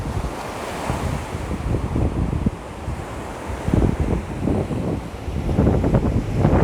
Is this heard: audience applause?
no